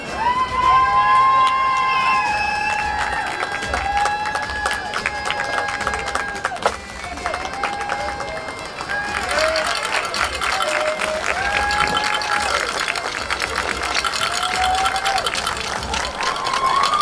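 A football stadium crowd applauds and cheers for the seniors before a high school game, loud sustained clapping and shouting mixed with a tonal background sound throughout.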